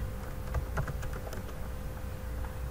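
Soft, quick typing on a computer keyboard, a steady patter of light key clicks over low room noise, with no voice.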